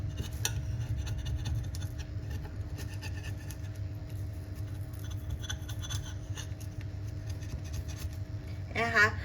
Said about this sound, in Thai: ค่อยๆแซะนะคะเพื่อนๆ มันจะ ดูลำบากนิดนึง แต่มันก็แซะได้ค่อยๆใจเย็นๆนะคะ